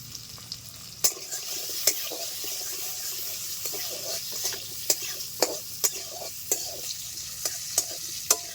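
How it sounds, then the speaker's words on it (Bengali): Potato pieces fry in hot oil with turmeric powder and salt, a steady sizzle broken by sharp clicks and scrapes of a spatula stirring the pan, close and continuous with no talking. "আলুগুলি হালকা ভাজা হয়ে গেছে, উঠিয়ে নিচ্ছি।"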